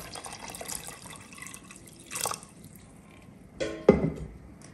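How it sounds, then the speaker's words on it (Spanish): A small cup of water poured into a cooking pot of cochinita pibil, a few short splashing pours with one louder splash near the end, close up with no talking. "Le voy a agregar otra tacita de agua."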